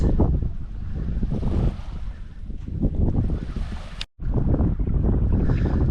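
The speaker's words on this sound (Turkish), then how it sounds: "Burası Kuzey Atlas Okyanusu'nda plaj." Ocean surf on a North Atlantic beach in Farsund, Norway, a loud continuous wash of breaking waves with heavy wind buffeting the microphone and a brief dropout near the end, without talk.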